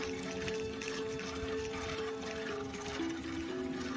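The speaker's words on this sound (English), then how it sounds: "that whining noise that you're hearing, that is the treatment plant" A thin, steady mechanical whine from a water treatment plant near Salt Creek drones on through the clip, shifting slightly in pitch midway, over faint outdoor background noise.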